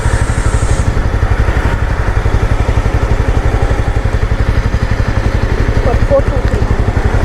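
A bike taxi motorcycle runs near the microphone with a steady, rapid engine throb and clatter that continues throughout without a break.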